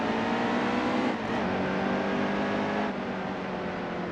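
A race car engine roars in NASCAR Heat 2 during a game race: a loud, sustained, high-pitched engine drone with slight shifts in pitch, close and continuous without talk.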